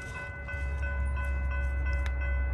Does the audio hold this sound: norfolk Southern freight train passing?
yes